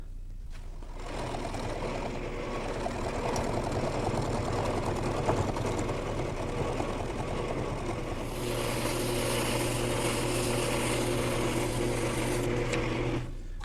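A woodturning lathe spins a large, fairly heavy jig at a low speed of about 500 RPM, a steady motor hum and whir running throughout and shifting to a brighter, more tonal drone partway through.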